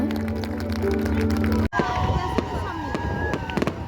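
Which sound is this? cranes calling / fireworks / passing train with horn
fireworks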